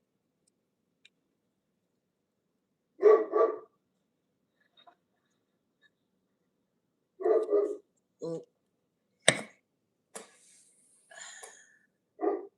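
A dog gives a few short barks in separate bursts, moderately near, with long quiet gaps between them and a brief murmur of a voice.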